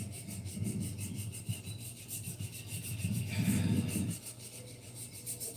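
Sandpaper for wood rubbed back and forth in a steady scraping rhythm, close and moderately loud, growing rougher and heavier for a stretch near the end with no talking.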